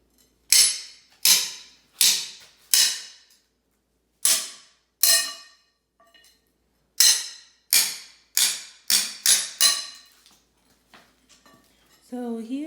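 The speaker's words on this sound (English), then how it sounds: "he is removing the tack strips over there from the carpet" Carpet tack strips are pried up during floor demolition, sharp metallic cracks and snaps coming in irregular bursts, some clustered close together, with quiet gaps between and brief voices at the end.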